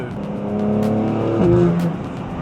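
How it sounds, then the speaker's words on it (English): A turbocharged BMW G81 M3 Touring engine, freshly rebuilt, revs up and settles, its pitch rising then falling, loud and close with a whooshing turbo edge; no talking. "Did you hear that turbo?"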